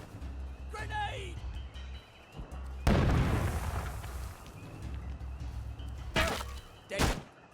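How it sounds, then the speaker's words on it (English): A grenade explodes in the video game We Happy Few with a sudden loud burst that decays over a second or two. Shouting voices and a few sharper impacts follow shortly after. "Grenade!"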